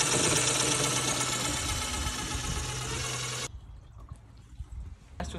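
A cheap go-kart's newly fitted small engine runs loud and steady at close range, then cuts off abruptly, leaving faint clatter and background noise.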